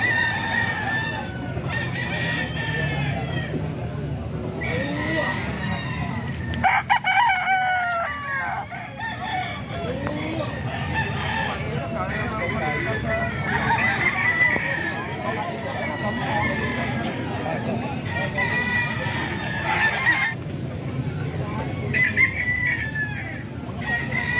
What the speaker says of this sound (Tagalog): Ito, manok pa ni Boss Manny mga ka-idol.